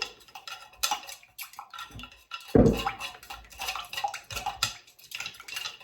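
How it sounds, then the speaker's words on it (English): A wooden skewer stirs mineral oil into beeswax, giving intermittent close scrapes, taps and clicks against the container in an uneven rhythm, with quiet gaps between strokes. "We're gonna incorporate that mineral oil really well into that beeswax and keep stirring."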